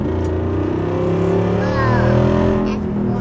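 A Jeep Wrangler 392 Final Edition with its V8 engine rumbling loud and close, the revs rising and holding in a deep, steady roar, with faint voices in the background.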